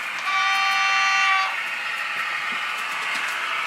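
Fleischmann model railway turntable motor running, a thin steady mechanical whine with a brief tonal hum at the start that drops to a quieter continuous drone.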